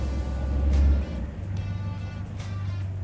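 An off-road racing car engine idles in a garage with a deep, steady rumble, briefly swelling louder before settling back to an even low drone.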